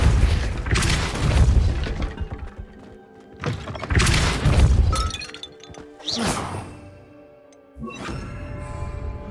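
A Depulso spell blast in the video game Hogwarts Legacy: heavy booming impacts with crashing, shattering debris, three loud bursts spaced a couple of seconds apart, each decaying into clatter, with no talking.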